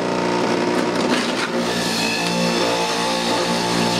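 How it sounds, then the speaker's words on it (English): A clogged juicer's motor strains with a dense, steady grinding whine, loud and close, with a brief dip in the middle before the harsh churning resumes. "So when your juicer gets a little clogged, it will make that noise."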